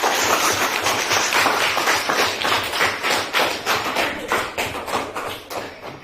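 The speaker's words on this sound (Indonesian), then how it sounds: "Tepuk tangan buat semuanya." Classroom of students applauding everyone, a dense, fairly loud burst of many hands clapping in an uneven patter that thins out and fades toward the end, no talk over it.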